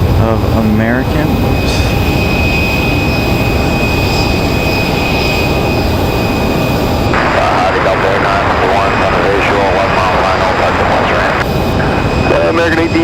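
A United Express jet departing Raleigh-Durham airport produces a sustained loud engine roar, with a person talking and radio chatter layered over the noise.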